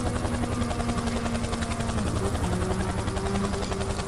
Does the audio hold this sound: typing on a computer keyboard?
no